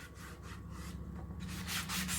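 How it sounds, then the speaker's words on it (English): Steady dry rubbing of a wooden Christmas countdown house frame being buffed smooth, a continuous close scratchy sanding sound with a slight back-and-forth rhythm that grows a little louder toward the end. "You're going to give it a good buffing."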